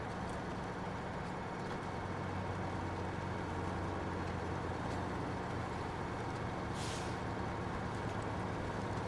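A heavy truck in the SnowRunner video game ploughs through deep mud, with a steady loud engine drone and low rumble throughout and a brief hiss partway through.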